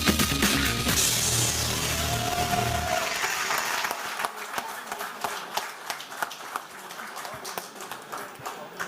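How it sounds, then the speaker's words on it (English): An audience applauds at a product launch during a national car racing championship event. A loud burst of noise gives way to sustained, dense clapping that continues steadily to the end. "Let's have a huge round of applause, please."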